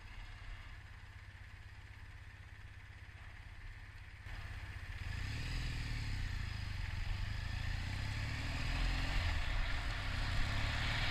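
A roughly 900 cc Triumph Bonneville T100 motorcycle rumbles steadily at low revs, then the engine note swells and holds stronger as the rider rolls on the throttle while riding, close and continuous with no talking.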